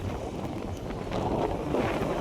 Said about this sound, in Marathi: बघा सकाळपासून वार एवढं सुटले ना